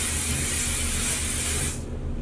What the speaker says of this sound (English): we're just going to spray my hair